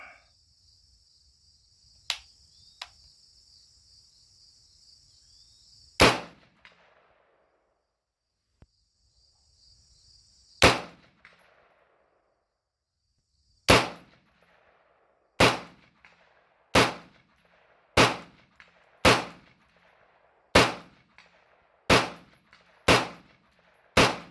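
Shots from a Keltec RDB rifle fired from a bench rest, with sharp, loud reports that start out spaced and sporadic and then come in a quicker, steady string of about a dozen rounds, with no voices.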